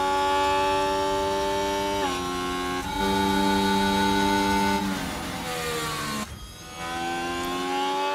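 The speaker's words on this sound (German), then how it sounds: "der Ferrari klang schon anders, als man mit langsamerer Geschwindigkeit jetzt unterwegs war" Ferrari-powered Formula 1 car in the F1 Manager 24 racing game, a loud sustained high-pitched engine whine with shifting pitch steps as it changes speed, steady and continuous throughout.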